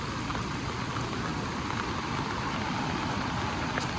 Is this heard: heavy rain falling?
yes